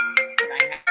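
A mobile phone ringtone chirps out loud and close, a quick run of bright, tonal electronic notes in a bouncing rhythm that sounds alone.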